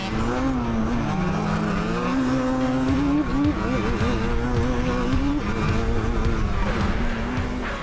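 Yamaha Banshee quad bikes racing make a continuous loud, buzzing two-stroke engine drone with shifting pitch as throttles rise and fall, heard close throughout with no pauses.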